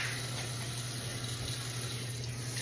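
Tap water runs steadily into a sink while neck bones are rinsed for cooking, a constant close hiss with no break and no voices.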